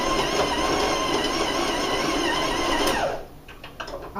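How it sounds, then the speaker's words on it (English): A stand mixer with a paddle beats cocoa shortbread dough at a raised speed. Its steady, loud motor whir runs for about three seconds, then drops away, leaving faint clattering. "I'm going to raise my speed a little. So the sound's going to go up a little bit here."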